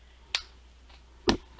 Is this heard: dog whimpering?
no